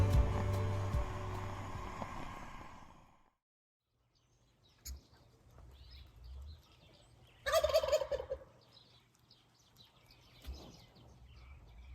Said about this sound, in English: this is the first time I've been awoken by turkeys right outside the tent